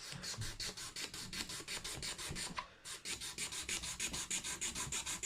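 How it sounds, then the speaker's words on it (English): Gunk scraped off the fretboard of a Japanese Fender Mustang guitar, a solid slab board, in quick rhythmic back-and-forth rasping strokes, close and steady with one brief pause midway. "I'm going to scrape it down, clean it all up because there's all sorts of gunk on this."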